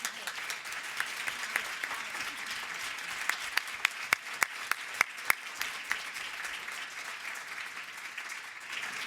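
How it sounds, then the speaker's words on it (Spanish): Sustained applause from a conference audience at the opening session of a professional gathering in Sitges, steady dense clapping with a few sharper individual claps standing out, continuing for the whole stretch. "Un aplauso para ellos de entrada."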